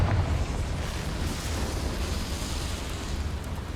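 A Confringo blasting spell explodes in Hogwarts Legacy, a loud, broad, rumbling burst that starts sharply and then rolls on as a sustained roar for several seconds.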